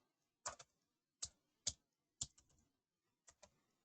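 Typing on a computer keyboard while writing Python code: isolated bursts of a few sharp clicking keystrokes separated by pauses, close and fairly quiet, with no talking.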